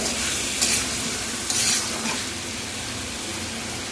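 Chopped bottle gourd and potato sizzle in a hot pan while being stirred, a steady close hiss broken by a few louder scraping bursts of the utensil.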